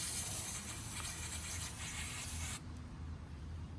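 A close aerosol spray of dielectric grease into a headlight connector on a 1992-1998 Chevy Suburban K1500 hisses continuously for about two and a half seconds, then cuts off abruptly, leaving quiet background.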